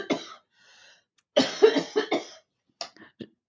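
A short burst of coughing: one cough, then a cluster of several rough coughs, and a couple more brief ones, close and otherwise quiet.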